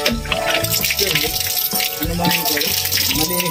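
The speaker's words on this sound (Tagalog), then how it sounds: "Ayun, tubig na." Tap water runs through a filter at a house, a continuous splashing gush heard close up while background music with a steady tune plays throughout.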